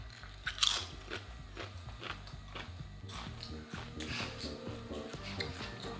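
A flame grilled steak flavored Dorito chip bitten and chewed up close, with a sharp crunch early on followed by steady crunchy chewing over a low background hum.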